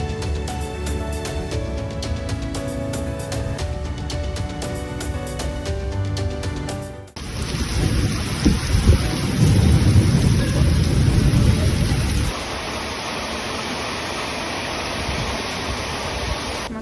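Music plays for several seconds, then cuts to a loud, roaring downpour during heavy flooding in Moscow. Deep rumbling wash from the heavy rain dominates before thinning to a steadier hiss.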